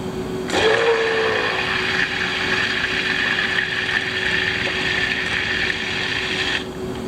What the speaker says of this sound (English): let's stick blend here for just a few moments